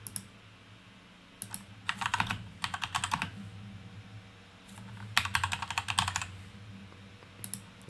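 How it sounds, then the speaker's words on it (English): Close, clacky mechanical keyboard typing in several quick bursts separated by short pauses, over a low steady hum. "hope my keyboard's not too loud"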